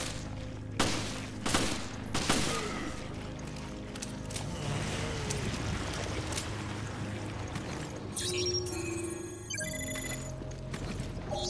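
Gunfire in the video game Resident Evil Revelations, a few sharp shots early on followed by clattering game effects and tonal chimes over a background rumble, no speech.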